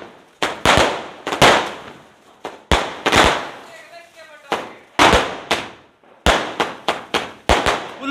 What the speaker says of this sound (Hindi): पटाखे